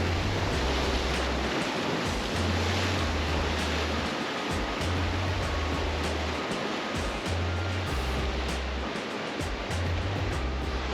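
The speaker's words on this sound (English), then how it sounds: "We love watching the waves crashing into the rocks" Ocean waves crash onto rocks in a loud, continuous roar of surf, heard close with rushing wash and a gusty low rumble underneath, without any voices.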